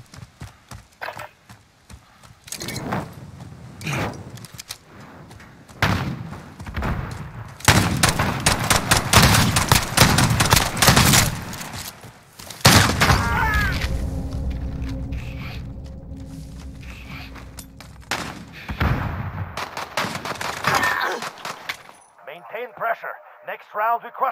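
Gunfire from Call of Duty: Modern Warfare comes in repeated bursts of rapid shots with pauses between, alongside game sounds and players talking.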